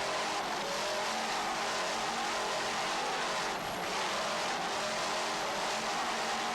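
Two 700-horsepower engines on a racing boat roar continuously at high throttle during a race, a dense, loud, sustained drone with no talk.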